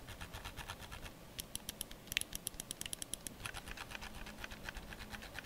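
An XPG Slingshot gaming mouse's scroll wheel is turned, giving a soft run of fine ratcheting ticks. The ticks come in quick bursts, close up and quiet.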